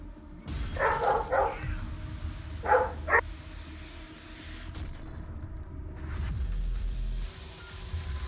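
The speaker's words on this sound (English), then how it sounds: "my dogs will be barking, by the way, before chat freaks out about it" Dogs bark in a couple of short bursts, each a quick pair of woofs, a little distant in a room over a steady background hum.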